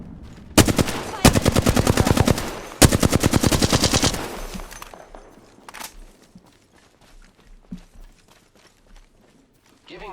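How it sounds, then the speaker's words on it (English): Enemy gunfire in a shooter video game: three loud bursts of rapid automatic fire in the first four seconds, then scattered fainter shots and clatter fading into quieter background. "The enemies are shooting at me."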